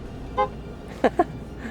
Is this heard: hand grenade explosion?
no